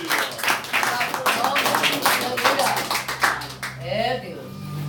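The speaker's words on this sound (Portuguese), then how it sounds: "Dá uma salva de palmas para Jesus." A church congregation applauds in a dense, sustained burst of clapping that fades out as a preacher begins speaking.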